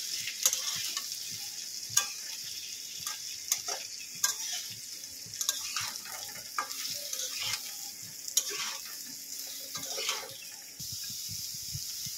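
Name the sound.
mixing pointed gourd with salt and turmeric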